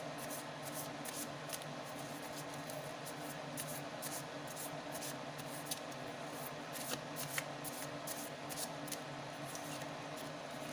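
Tarot cards shuffled by hand in a steady, papery riffle with soft brushing and flicking, a few sharper snaps where a card slips free of the deck, close and quiet with no talk.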